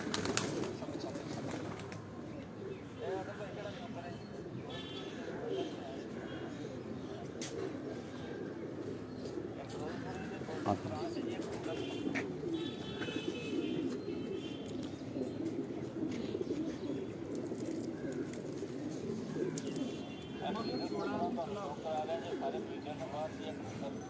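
Ferozpuri Golden Cross pigeons give soft, low coos close by, repeating through the whole stretch, with people talking throughout over a quiet background.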